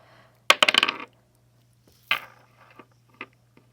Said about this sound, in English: I'm using the witch dice so nobody can be like, she does this sign first